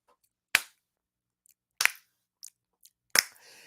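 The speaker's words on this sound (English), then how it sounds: "clapped her tongue." Three sharp, loud tongue clucks ring out alone, evenly spaced about a second and a quarter apart, with a couple of faint clicks between them and a soft rustle after the last.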